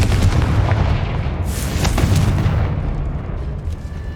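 A Confringo spell bursts in Hogwarts Legacy with a loud, booming fiery explosion, a dense rumbling roar that rises sharply near the middle and then trails off, close and continuous with no talking.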